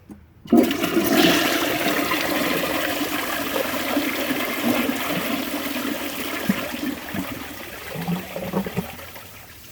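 A toilet flushing nearby, a sudden loud rush of water that holds steady for several seconds and then trickles and gurgles toward the end, with no talking.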